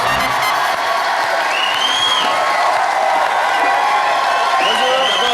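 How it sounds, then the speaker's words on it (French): A studio audience at a French television show applauds and cheers steadily, with dense clapping and scattered whoops throughout. "Je vous demande d'applaudir Jade, s'il vous plaît"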